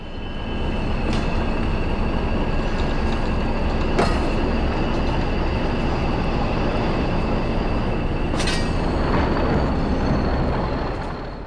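An English Electric Class 40 diesel locomotive with a 2000 bhp engine hauls a cement train along a main line, a loud continuous rumble of engine and rolling wagons with a few sharp wheel clanks.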